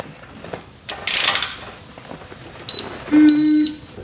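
A torque wrench tightens nuts on the transmission pan of a Colorado pickup, a short ratcheting burst followed by a couple of high electronic beeps from the wrench, close and brief with no talk.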